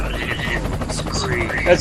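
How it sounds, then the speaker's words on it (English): A helicopter's rotor chops in the background, its steady thrum running beneath a voice that overlaps it. "little chopper there going on there"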